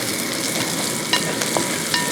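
Curry leaves and aromatics stir-fried in a pan for Kerala beef peralan sizzle with a continuous crackle, broken by a few sharp spoon-and-pan clinks.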